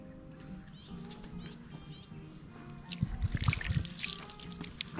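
Water is poured out for birds, a soft trickle that swells into louder splashing pours partway through, close by, with faint bird calls in the background.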